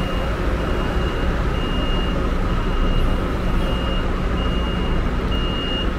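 A Viação 1001 coach pulls out at Rio's Novo Rio bus station. A steady diesel rumble runs under a repeating reversing-style beep, with loud terminal ambience throughout.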